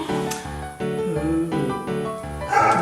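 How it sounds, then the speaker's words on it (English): A dog barks in a repeated series of close, loud, evenly spaced barks, about five in quick rhythm, with no talk over them. "There's the dog."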